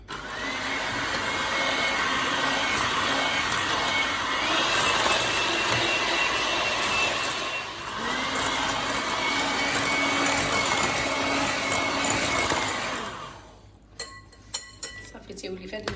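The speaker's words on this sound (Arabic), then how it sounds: "عاد غنزيدوا عليه الماسكاربون ونعاودوا نخلطوا بالضرب الكهربائي" Electric hand mixer whirring steadily as it beats eggs, sugar and mascarpone for a tiramisu, a loud continuous motor drone that shifts pitch slightly as the bowl is worked, then cuts off near the end leaving scattered clinks.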